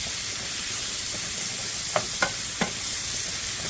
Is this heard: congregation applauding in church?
no